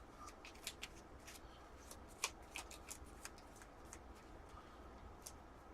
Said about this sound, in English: Shuffle up this loot deck